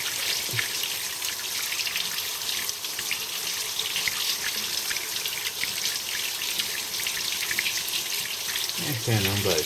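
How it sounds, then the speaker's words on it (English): Water running through the engine block of a Mercedes 280E during a radiator flush, a steady hissing rush of flowing water, close and continuous, with a faint voice near the end. "the water's running through the block now"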